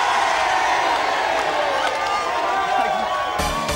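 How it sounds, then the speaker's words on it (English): A studio crowd of about 500 people cheers and whoops loudly and continuously on a live breakfast TV show, the roar steady throughout and ending in a brief burst of noise. "Can we have 500 people cheering the news"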